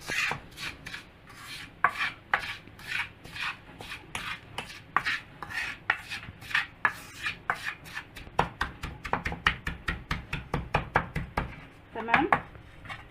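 A knife chops taro on a cutting board in a quick run of crisp strokes, first spaced out and then speeding into a rapid, close, steady rhythm.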